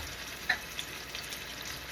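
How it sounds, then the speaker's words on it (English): Extra virgin olive oil sizzles in a frying pan while cooking orange pork chops, a faint, steady crackling hiss with a couple of small pops. "pretty good sizzle going in our EVOO"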